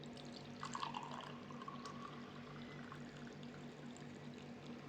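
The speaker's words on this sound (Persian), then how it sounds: "خب یه لیوان آب میریزم" Cold water is poured into a glass with a soft, steady trickling pour and a rising gurgle near the start, quiet and close, with no talk.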